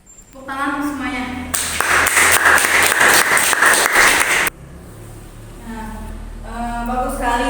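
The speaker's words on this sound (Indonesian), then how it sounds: "Tepuk tangan semuanya." Classroom applause as students clap together on cue during a kidney-filtration lesson discussion, a dense burst of hands lasting about three seconds and ending abruptly, with a teacher's voice talking before and after.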